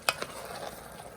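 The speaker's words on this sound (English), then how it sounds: "And this is the 2 packs of chili seasoning. So we're just going to blend it all together." Spoon scraping through chili meat in a pot as two packs of chili seasoning are blended in, a couple of sharp clinks over a soft sizzle, close and brief.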